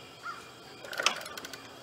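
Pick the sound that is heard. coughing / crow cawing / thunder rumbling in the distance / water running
crow cawing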